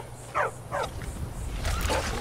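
A dog companion in Skyrim lets out a few sharp barks in quick succession, spaced irregularly over low background game ambience.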